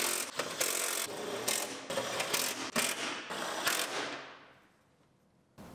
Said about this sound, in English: Bolt them all in.